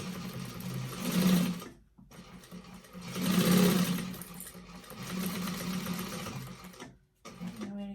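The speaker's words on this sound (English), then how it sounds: "We're just going to sew over that." A sewing machine stitches across a fabric tote bag, whirring in steady runs with short pauses between them, moderately close and without speech.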